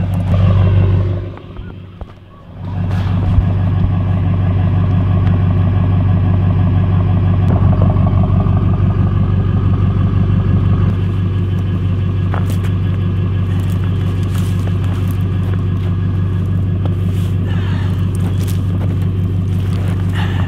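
A camper van's engine rumbles and idles, then pulls away through snow with its snow chains just removed, a steady close low drone that holds loud and even for the whole stretch.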